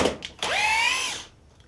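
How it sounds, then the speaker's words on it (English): A Festool TI15 drill driver in pure drill mode sinks a 3-inch screw into wood: a short, close, high whine that spins up quickly, holds for under a second and then cuts off. "there's enough power to sink a 3-inch screw into the wood"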